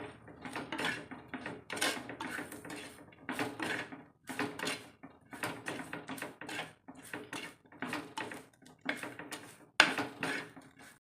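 Metal spoon scraping and clanking against a pan while clam fry masala is stirred, irregular bursts of close scraping strokes with short pauses between them, no voices.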